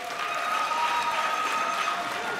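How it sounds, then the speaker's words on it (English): Graduation audience clapping for their lecturers, a steady, dense patter of many hands held at an even level throughout, with a faint sustained tone running underneath. "Can you clap hands for your lecturers?"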